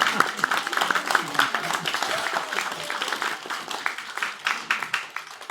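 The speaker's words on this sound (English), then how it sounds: "You can clap for that." Audience applause at a church testimony service, a dense patter of many hands clapping steadily for several seconds, moderately close, tapering slightly toward the end.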